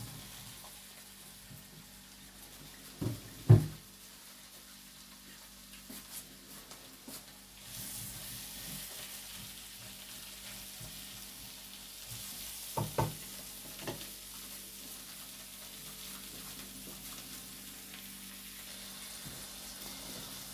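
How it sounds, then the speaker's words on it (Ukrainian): Mushrooms frying uncovered in a pan for a mushroom risotto give a steady soft sizzle throughout, with a few sharper stirring clinks and scrapes along the way and no talking. "це ми грибочки піджарюємо трохи"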